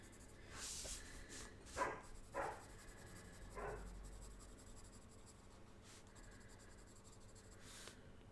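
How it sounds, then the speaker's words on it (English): A dog barks a few times in the distance, the short barks coming through faintly over the continuous scratch of pens and pencils on paper during a colouring session. "Barking away there."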